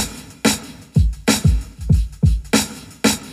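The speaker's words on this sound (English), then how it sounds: "So the drums by themselves sound like this." A simple, sparse drum pattern plays alone: punchy low kicks alternating with sharp snare hits at a steady, moderate tempo.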